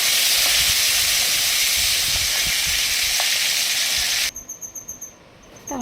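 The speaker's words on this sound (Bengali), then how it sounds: "তেলটা গরম হওয়ার পরে দিয়ে দিলাম মাছের মাথা দিয়ে" Hilsa fish heads sizzling in hot oil with salt and turmeric, a steady loud hiss for a few seconds before the frying suddenly cuts off, leaving faint clicks.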